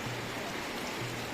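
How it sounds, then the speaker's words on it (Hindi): Fast-flowing water of the Kaveri river near Omkareshwar, a dense continuous rushing roar with no pauses, close and loud, with a faint low voice briefly underneath. "ये आपके सामने जो है ये है कावेरी जी। बहुत ही तेज पानी है इसका।"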